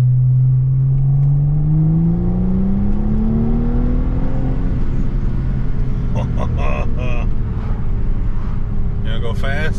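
A car engine with a muffler delete revs up loudly, the pitch climbing steadily then holding in a raw, close drone, with voices talking over it toward the end.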